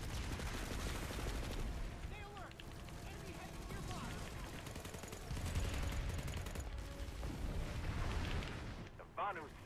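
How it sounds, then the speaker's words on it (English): Rapid gunfire rattles through a Planetside 2 video game battle, with dense bursts of shots and blasts layered over game audio at a fairly low overall level. "You should probably stop shooting at me because you're getting nowhere doing it."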